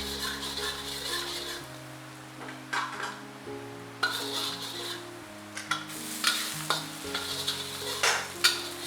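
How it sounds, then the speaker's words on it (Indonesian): Meatballs stir-fried with garlic in a pan sizzle steadily while a utensil scrapes and clinks against the metal in repeated bursts, close up, with background music. "Kita tumis bakso sampai dia mateng ya."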